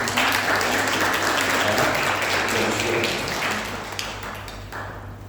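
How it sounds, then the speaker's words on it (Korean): Big, dense applause fills a church as the congregation welcomes visiting members, sustained and close before tapering off near the end. "잠깐만 자리에서 일어나 주시면 큰 박수로 환영하겠습니다."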